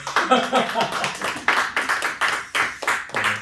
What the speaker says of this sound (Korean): 박수를 치려면 크게 쳐주시는 거.